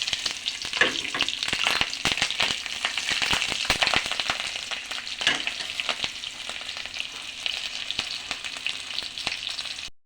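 Panch phoron, bay leaf, ginger and green chili fry in hot oil, a dense, loud crackling sizzle with sharp popping spits throughout, close and continuous, fading slightly toward the end.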